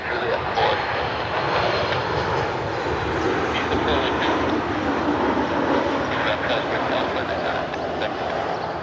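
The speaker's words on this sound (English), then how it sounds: "Got a Challenger taxiing out as well." A Bombardier Challenger jet taxis at Cleveland Hopkins airport, its engines giving a loud, steady broadband roar with a faint whine that holds without a break.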